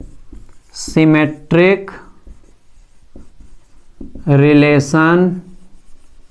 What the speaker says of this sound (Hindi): नोट में सर अपने कॉपी पे लिखेंगे